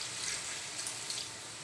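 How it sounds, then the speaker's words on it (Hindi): Half a glass of water poured from a glass into a pan of fish curry with tomato, a brief, soft, continuous hiss of splashing liquid with no talking. "हाफ गिलास पानी के डालेंगे।"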